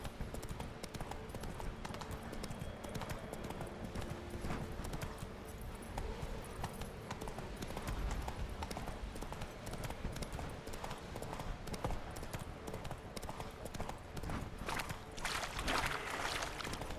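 Horse hooves galloping in The Witcher 3, a steady rapid clip-clop under a dense, loud wash of game ambience and wind, continuous throughout.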